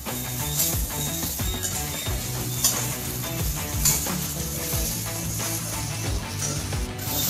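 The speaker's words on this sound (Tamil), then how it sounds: "நம்ம கழுவி வச்சுருக்க தக்காளியை சேர்த்துடணும். நல்லா ஒரு மூணு நிமிஷம் வதக்கி எடுத்துக்குவோம்." Tomatoes sautéing and being stirred in a pan, with repeated utensil scrapes and clinks against the metal over a low sizzle, steady and close.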